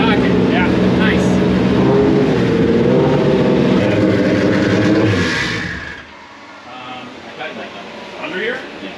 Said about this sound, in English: We're breaking his engine in.